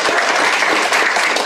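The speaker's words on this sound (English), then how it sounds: "We can give a round of applause to Ed." A crowd claps steadily, a dense burst of applause filling the short moment without any talking.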